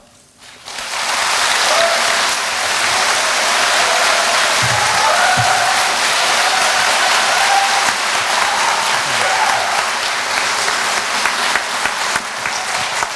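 A large audience gives sustained, loud applause at the 2014 inauguration ceremony of the South Chungcheong provincial governor, a dense, steady wash of clapping that rises quickly and holds for over ten seconds.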